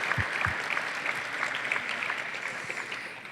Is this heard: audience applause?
yes